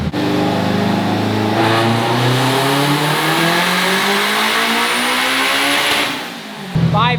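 A Honda Civic Type R with a roughly 700 hp engine screams up through its revs on a dyno, loud and close with a steadily rising pitch before the throttle cuts and the engine drops away.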